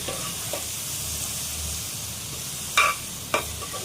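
Dissolved tamarind water simmering with bitter gourd in a pan for thokku, a steady bubbling sizzle with two sharp stir or utensil knocks near the end.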